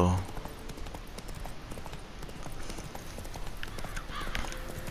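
Roach the horse gallops in The Witcher 3, with steady rapid hoofbeats running throughout under a person talking, with game ambience behind.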